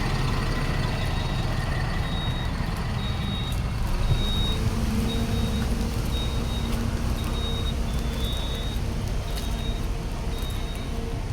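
Vehicles in a parking area beside the Kallang river make a continuous broadband traffic roar, with a repeating reversing beep running through it and no voices.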